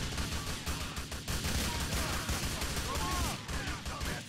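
Pistol gunfire in the video game GTA IV, a rapid run of sharp shots mixed with other game noise and busy background action, at moderate level.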